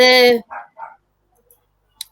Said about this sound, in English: my dog's barking like mad in the background